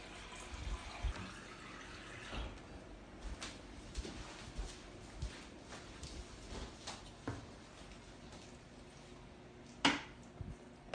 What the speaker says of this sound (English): So I've had the sink running here to make sure that we get some warm water.